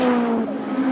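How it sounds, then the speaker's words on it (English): Ford touring car engines from 80s and 90s racing at Anglesey circuit drone loudly in a brief, steady burst, one engine note holding and shifting slightly as the car passes. "Sound of these fantastic Ford engines in the background, on that proper touring cars, old school touring cars of the 80s and 90s."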